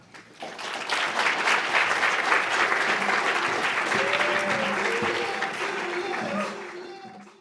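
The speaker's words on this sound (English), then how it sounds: "Please join me in a warm round of applause" Warm audience applause welcoming four panelists at a political discussion event, a dense, sustained crowd clapping lasting about seven seconds, with faint music tones running underneath before it tapers off.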